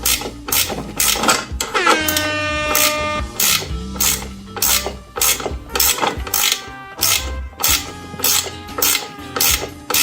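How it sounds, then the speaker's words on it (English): Metallic clicking and ratcheting in quick bursts, with a few whining mechanical pitches, like a tool working very tight existing bolts loose up close. "we're getting all the existing bolts out"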